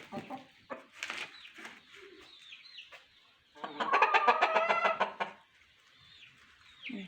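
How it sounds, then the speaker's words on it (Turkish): A grey chicken clucks in a garden, first in scattered short calls, then in a louder rapid run of clucks, with quiet pauses in between. "Gri, gri tavuk."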